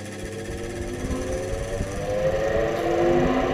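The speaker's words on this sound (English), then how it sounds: "First tests of the pump, we've got it plugged into a rheostat just to double check it" A church organ's blower pump motor, plugged into a rheostat, spins up with a low, steady hum and whir that gradually grows louder and rises in pitch.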